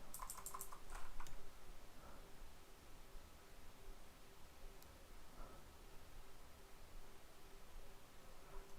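Typing on a clicky computer keyboard, heard as a quick cluster of sharp key clacks at the start, then faint scattered clicks over a steady hiss.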